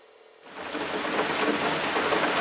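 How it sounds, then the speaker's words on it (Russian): Rain starts suddenly and then pours steadily, a dense close hiss of drops striking surfaces, with no voices. "У нас наконец-то дождь."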